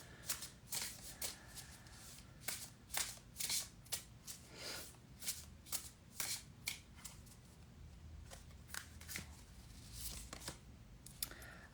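Tarot cards being shuffled by hand, a run of crisp riffling bursts in uneven rhythm, close and fairly quiet, with a few soft pauses between shuffles.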